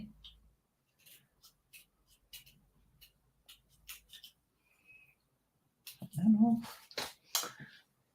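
Quiet, scattered snips of scissors cutting through paper, short crisp cuts with pauses between, followed by a brief louder rustle near the end.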